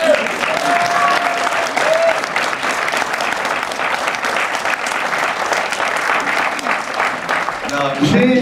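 A festival crowd at FIFIGROT applauds steadily, many hands clapping in a thick continuous wash, with a voice breaking through just at the close.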